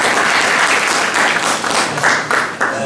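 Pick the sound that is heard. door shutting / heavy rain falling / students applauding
students applauding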